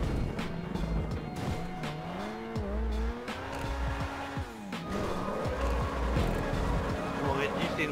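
A Ferrari SF90 Spider in the GTA 5 video game drives with a steady, rising and falling engine note and repeated tire squeals, close and loud, while people talk over it throughout.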